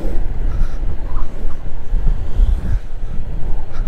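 Strong wind buffets the microphone at the open-air Dampalit mega dike in Malabon, a constant loud low rumbling gusting with no other clear sounds.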